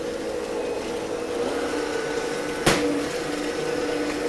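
An electric mixer creams cranberry lemon loaf batter at medium speed, a steady close motor whir holding an even pitch throughout, broken once by a brief sharp knock partway through.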